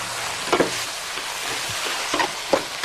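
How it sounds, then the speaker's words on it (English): Fresh corn kernels stir-fried with smoky Chinese duck sausage sizzle steadily in a hot pan, a dense close hiss broken by a few scraping stirs of the utensil, with no talking. "All you're doing here is really heating them through and mixing them through with that smoky, wonderful Chinese duck sausage."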